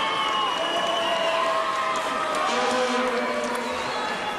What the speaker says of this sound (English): Let's give both of these boxers a big round of applause.